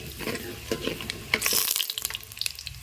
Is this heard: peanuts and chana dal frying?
yes